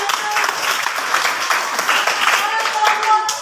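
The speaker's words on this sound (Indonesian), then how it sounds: "Beri tepuk tangan untuk kelompok" A classroom of students applauds a group, steady dense clapping throughout with a voice talking over it.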